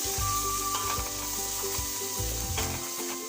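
Fresh ginger paste and curry leaves sizzling in a hot pan while being stirred for egg biryani, a steady close frying hiss broken by repeated scraping strokes of the spoon.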